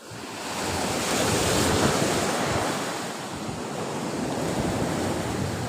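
Ocean surf breaks and rolls continuously onto the beach at Pantai Banteng Mati during a fishing outing, a loud, steady roar of washing water with gusting wind buffeting the microphone and no voices.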